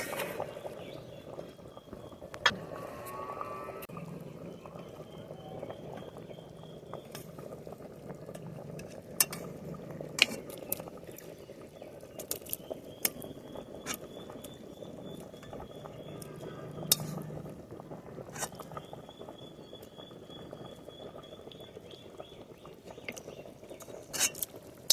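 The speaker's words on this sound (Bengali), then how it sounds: "ঢাকাটা খুলে একটু নাড়িয়ে দেব। কষিয়ে রাখা মাংসটা এখন দিয়ে দেব।" Chicken khichuri being stirred in a pot in a home kitchen, a steady low bubbling and sloshing of rice and lentils with scattered scraping clicks of the spoon against the pot, continuous and moderately close.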